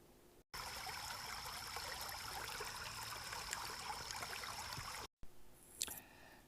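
Creek water flowing beside the Campbell Creek Loop Trail, a continuous rushing babble close by that cuts out briefly twice, with a faint scuff near the end.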